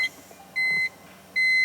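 Two steady electronic beeps from the dashboard of a Toyota 1JZ-swapped BMW E46 drift car sound, evenly spaced and moderately loud, with a quiet pause between them.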